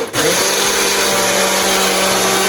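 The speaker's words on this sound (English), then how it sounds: "And now we're gonna put it into the blender. And then we're gonna press power," A blender whirring through a smoothie, starting with a brief click and then a loud, steady high-pitched motor drone that holds evenly to the end.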